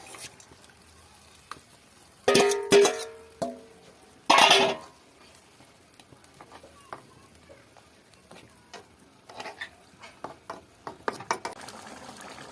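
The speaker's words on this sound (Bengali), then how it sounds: "এবার আমি জল দেবো। মাছগুলো সব দেবো।" Water poured and fish added into a simmering Bengali fish curry, two loud splashing, sizzling bursts close by, then quieter scattered clinks and bubbling in the pan.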